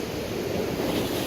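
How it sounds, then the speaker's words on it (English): Waves crashing on the Oregon coast beside a tide pool, a loud, continuous roar of surf with wind buffeting the microphone. "You get crashing waves right next to you. Here comes a big one."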